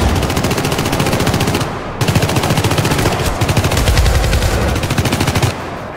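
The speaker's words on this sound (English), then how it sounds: "create genuinely intense firefights with gunshots echoing throughout the rooms" Gunfire in the shooter game Syndicate (2012) during an intense indoor firefight, with rapid automatic bursts echoing through rooms, loud and sustained, a brief gap partway, then more relentless firing before it cuts off.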